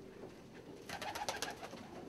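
Fancy pigeons coo softly in a loft, a short run of low rounded calls arriving about a second in and repeating a few times at moderate distance over faint room noise.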